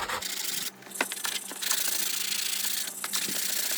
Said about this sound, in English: now after some rubbing and all